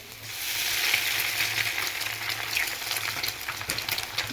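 Three eggs fry in a pan for chicken noodles, giving a loud, continuous sizzle that stays close and steady for the whole stretch, with no voices.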